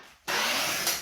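A cordless drill boring into wood bursts in suddenly after a brief quiet moment, then runs as a loud, steady broadband whir with a slight swell near the end.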